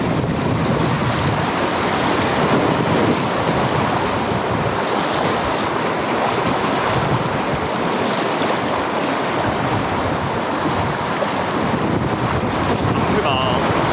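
Turbulent river water rushing and splashing around a packraft on the rocky Ivalo river in Lapland, a steady loud broadband wash with wind buffeting the microphone throughout.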